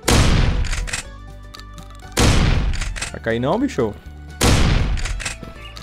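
Three loud gunshot bursts fired at a bear in a mobile hunting simulator game, spaced about two seconds apart, with someone talking between the shots.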